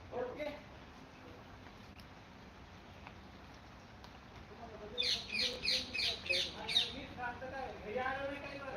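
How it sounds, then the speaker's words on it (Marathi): A series of sharp, rhythmic bird chirps rings out at Machhodari Devi temple after a quiet stretch, about six evenly spaced calls, with a voice speaking underneath. "पशुपक्षी देखील किलबिल करत आहेत"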